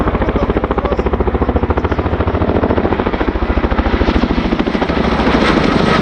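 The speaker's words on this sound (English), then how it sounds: "The Chinook is now going to break away shortly for performance 60 degrees, circling over away from Crown Centre" A Chinook twin-rotor helicopter displaying at the RAF Cosford airshow, its loud rhythmic rotor thudding heavy and continuous, growing slightly louder toward the end.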